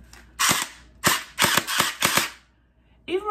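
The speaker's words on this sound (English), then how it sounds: "It makes a loud shooting noise." A battery-powered gel blaster toy gun fires five sharp, loud cracks in quick bursts, close and alone, with a brief whirring click at the end.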